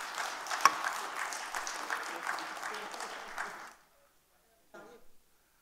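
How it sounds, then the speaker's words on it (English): An audience at a panel discussion on the dairy and mishti sweets industry gives the panelists a round of applause, dense sustained clapping that stops abruptly, followed by a brief quiet murmur. "A round of applause for our panelists"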